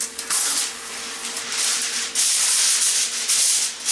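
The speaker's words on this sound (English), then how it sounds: "What I want to do here is go ahead and roll out my aluminum foil." Aluminum foil being pulled off the roll and unrolled in a kitchen while preparing a roast, a close, steady crinkling rustle with a couple of louder surges.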